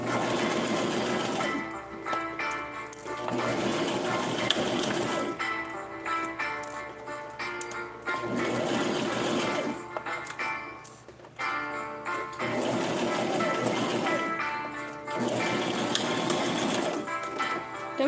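A sewing machine stitches a doll outfit in repeated bursts of fast, rhythmic clatter, each run lasting a few seconds with short pauses between, close and steady, with soft music in the background.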